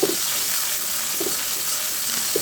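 Onion-chili paste with whole cumin and cinnamon fries in hot oil, giving a steady close sizzle with a few soft scrapes from stirring.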